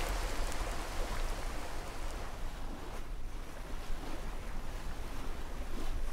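Ocean waves from the Sailaway sailing simulator game wash in a steady, faint broadband hiss of surf and water, continuous and unbroken, with wind-like noise throughout.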